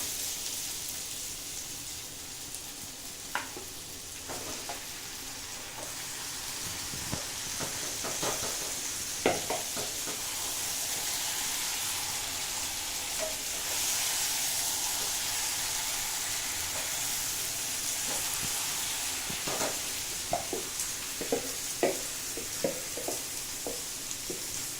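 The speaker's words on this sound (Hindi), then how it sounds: "इसमें मटन ऐड कर लेते हैं।" Mutton sizzles in a pan with onions for a korma, a steady hiss of frying broken by scattered clicks and scrapes of stirring, close and continuous with no talking.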